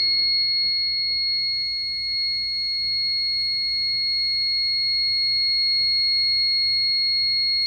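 The timer alarm on a heat press machine sounds a continuous, loud, high-pitched electronic tone that holds steady throughout, with no one speaking.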